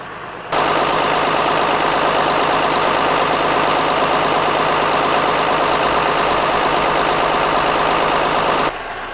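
A John Deere 6900 tractor's 130 hp diesel engine idles steadily and loudly up close, smooth and without vibration, a constant throbbing rumble that starts abruptly and cuts off near the end.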